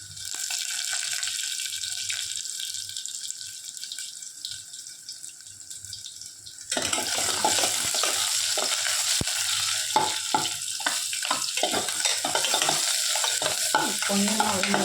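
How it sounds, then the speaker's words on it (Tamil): Dried red chillies broken into hot oil and stirred, with a quiet hiss and clinks at first, then a sudden loud, steady sizzle with repeated scraping stirs and no talking. "ரெண்டு காஞ்ச மிளகாய் கிள்ளி போடணும்."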